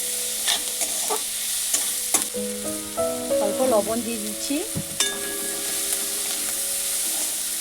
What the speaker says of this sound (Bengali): এবার কাঁচা লঙ্কা পেঁয়াজটাকে ভালো করে কষিয়ে নিব তেলে।